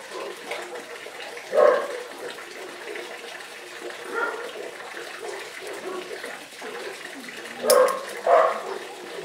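Several dogs bark in short bursts at a moderate distance, a backyard standoff with the neighbour's dogs, with two clusters of yaps separated by quieter stretches.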